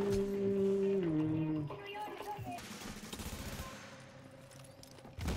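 Rapid bursts of gunfire from The Division's Dark Zone PvP combat rattle through a dense mix of game audio, with tonal effects early on and fading back to scattered shots.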